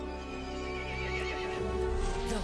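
A horse in the video game Resident Evil Village neighs in a long, wavering whinny over a low droning game soundscape, with no one speaking.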